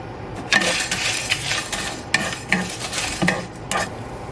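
Coriander seeds, black pepper, fenugreek and cardamom fry in a pan with a soft steady sizzle. A spoon scrapes and stirs them in regular strokes close by.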